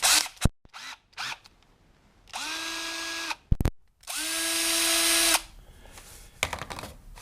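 A cordless drill whirs in two sustained bursts of a few seconds each while removing an old chuck, with short clicks and handling noises between and after, close up with no talking.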